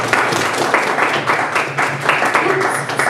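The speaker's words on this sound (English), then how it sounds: "Let's give them a round of applause." An audience at a League of Women Voters gathering on Whidbey claps for two speakers, a dense round of applause with recurring louder surges, fairly close and steady throughout.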